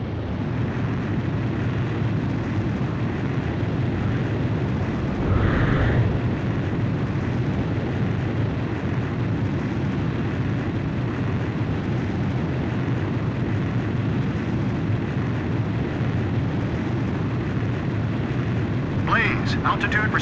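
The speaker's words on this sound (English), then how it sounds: "Blaze, you are cleared for takeoff." A fighter jet in Ace Combat 5 roars steadily through its takeoff run, a loud continuous engine rumble with a brief swell partway through and a faint radio voice near the end.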